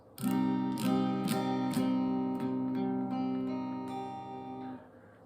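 A single minor barre chord on guitar strummed several times in a slow, steady rhythm, each strum ringing out and blending before fading at the end; no voices.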